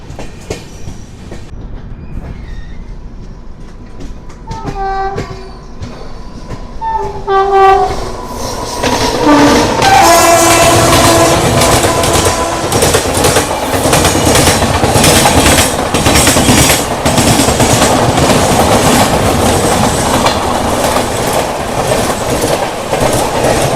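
The Sabari Superfast Express passenger train, leaving Aluva, Kerala, approaches and rolls past loudly and close, its horn sounding early, followed by steady rhythmic clatter of wheels on the rails.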